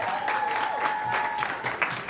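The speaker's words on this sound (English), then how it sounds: "Richard, please give Richard a big round of applause." A short burst of clapping at a 40th birthday party, a modest crowd applauding close by and fairly softly, steady throughout the couple of seconds.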